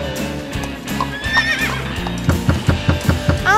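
A toy horse neighing during children's pretend play, a loud close whinny with rising pitch followed by rhythmic clip-clop hoofbeats.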